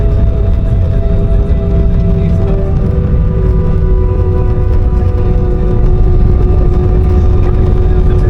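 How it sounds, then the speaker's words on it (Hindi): Airliner cabin during the landing rollout on a flight from Islamabad to Skardu, with the aircraft braking and the windows faintly rattling; a loud, steady roar with sustained engine tones fills the whole stretch. "जहाज़ की खिड़कियां भी थोड़ी सी आवाज़ कर रही हैं। ब्रेक्स, जहाज़ के ब्रेक्स।"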